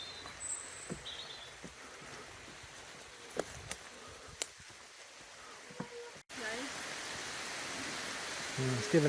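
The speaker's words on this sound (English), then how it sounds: "Starting to rain again." Rain falling in a wooded nature reserve, heard from beneath the tree canopy as a steady broadband hiss with a few scattered sharper drops, growing denser and louder toward the end.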